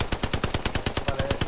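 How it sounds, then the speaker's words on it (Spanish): A machine gun in the video game Hell Let Loose fires a rapid, evenly spaced burst of about a dozen sharp shots, loud and alone with no talking. "La MG está aquí."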